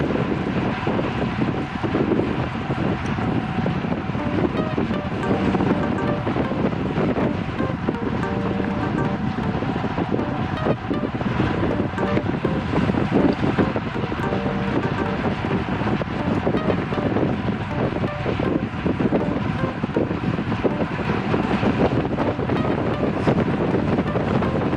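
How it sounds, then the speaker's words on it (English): Strong, steady wind roar buffets a microphone during a group bicycle ride on mild terrain along a road, a dense continuous rush that persists unbroken from start to finish with no talk. "You hear the wind."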